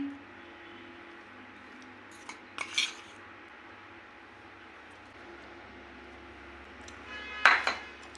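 A teaspoon scoops sifted gram flour (besan) into a pan for besan milk, with a few light metallic scrapes and clinks over a low steady hum, ending in a louder spoon clatter against the pan.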